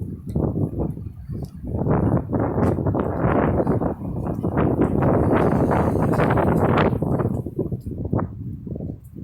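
Outdoor wind buffeting a microphone at Isla Verde, a steady loud rumbling roar with gusty surges lasting throughout, no talking over it.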